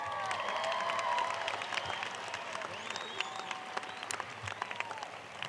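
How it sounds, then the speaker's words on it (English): A graduation audience applauding, a steady wash of many hands clapping in a large hall, fairly distant and gradually thinning out with scattered claps toward the end. "Let's give them a round of applause."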